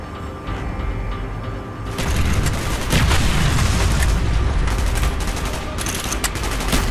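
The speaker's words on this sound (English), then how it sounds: "Gunfire's drawing attention." Rapid bursts of gunfire and booming explosions overlapping in a dense, loud barrage that intensifies after a quieter opening, a chaotic firefight from Call of Duty: Black Ops.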